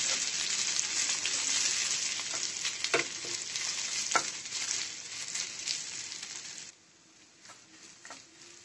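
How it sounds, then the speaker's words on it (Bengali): Freshly ground ginger and garlic frying in oil in a pan for a sweet and sour plum pickle: a steady, close, bright sizzle with stirring scrapes, dropping to a quieter hiss near the end. "আমি দিয়ে দিব আমার সেঁচে নেওয়া আদা আর রসুনগুলো। এটা আমি একটু ভেজে নেব।"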